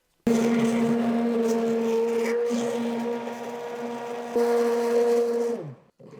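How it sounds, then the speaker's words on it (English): An immersion blender whirs steadily through creamy artichoke soup, starting abruptly, holding a loud motor hum with a slight pitch shift midway, then winding down and stopping near the end. "I'm going to use an immersion blender, right like here"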